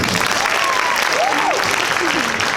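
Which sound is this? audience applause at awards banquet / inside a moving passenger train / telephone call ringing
audience applause at awards banquet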